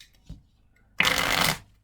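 Playing cards are shuffled in one quick riffle lasting about half a second, close and crisp, after a faint tap and near silence.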